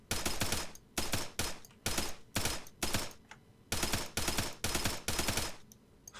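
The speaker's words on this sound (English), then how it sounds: "Let me just fire like one more mag because it just looks so cool" A Thompson submachine gun firing tracers in ARMA 3 rattles off repeated short automatic bursts separated by brief pauses, crisp and sharp with no talking.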